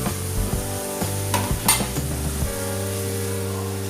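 Cabbage tossed into a hot pan and stirred, a close clatter of utensil against pan with a soft sizzle, busy for the first two seconds and then settling into a quieter steady tone.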